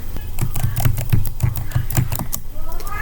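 Keyboard keys tapped in quick, uneven bursts as an IP address is entered for router configuration, the clicks close and steady over faint background noise, with no talking.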